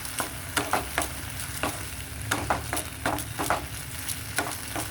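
Vegetables frying in oil with salt and chili powder in a pan, a steady sizzle broken by repeated scraping stirs at an uneven rhythm, close and fairly quiet.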